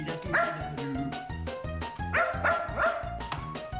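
A dog barks in rapid repeated woofs and yips, close and fairly loud, over a busy background of music in a television drama scene.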